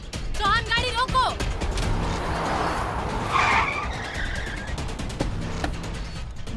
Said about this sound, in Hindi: गाड़ी रोको।